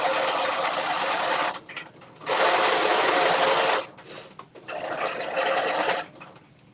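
A sewing machine stitches fabric for an infinity wrap dress in bursts of fast mechanical whirring, stopping and restarting several times, close and fairly loud.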